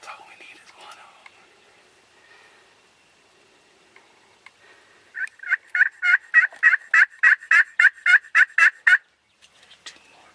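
Wild turkeys near hunters' decoys during an Illinois bow hunt let out a rapid series of loud, rhythmic gobbles and clucks after quiet whispering from the hunters, with one more call trailing off at the end.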